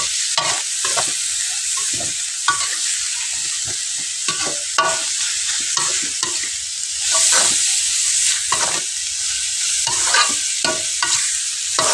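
Anchovies (teri) stir-fried in a pan with bitter melon, giving a loud, close, continuous sizzle and hiss broken by repeated scraping and clattering strokes of a spatula, with no talking.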